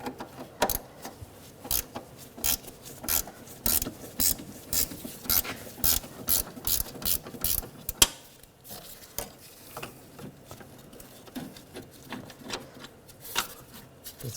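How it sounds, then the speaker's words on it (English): A ratchet wrench turns a loosening bolt on the rear upper control arm of a 2013-2019 Ford Escape, giving rapid, close metallic clicking in quick bursts for about eight seconds before slowing to sparser clicks. "And once it gets a little looser, you can use a ratchet wrench."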